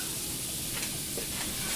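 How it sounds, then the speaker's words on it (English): Butter sizzling in a hot frying pan gives a steady, close crackling hiss that runs evenly throughout with no voices over it. "We're gonna throw some butter on in our pan, see how it sizzles."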